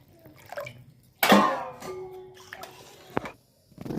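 Water is poured into a pan of cauliflower frying in oil, bringing a loud burst of hissing sizzle that settles into a quieter simmer, with faint clinks around it.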